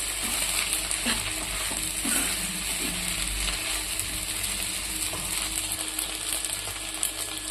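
Sabudana (sago pearls) heating and being stirred in a hot pan for a Shivaratri dish, giving a steady close sizzle with scraping and clicking of the spoon throughout, no talk.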